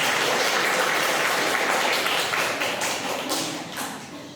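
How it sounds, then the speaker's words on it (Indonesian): Applause from students in a classroom during a teaching-practice lesson, a dense patter of many hands clapping that runs steadily and slowly tapers off toward the end. "Tepuk tangan untuk kita semua."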